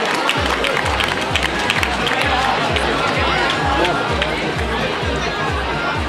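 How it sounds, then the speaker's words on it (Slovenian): At an outdoor finish for a 2016 uphill bike race to a mountain hut, a loud crowd claps and cheers in a dense, continuous roar, with steady low thumps beneath and a voice talking over it. "aplavz!"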